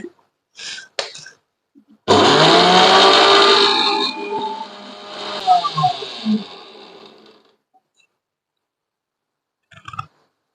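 A mixer grinder grinds cooled masala spices to powder, starting with a loud, harsh whirring burst that runs for a few seconds, then whines down through falling motor tones to silence, with brief handling noises before and after.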